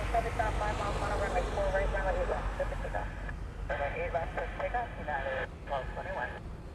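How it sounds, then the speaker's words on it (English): A United 757 airliner rumbles at Honolulu airport, a steady low roar in the distance beneath someone talking throughout. "So this is a United 757 heading off to LA"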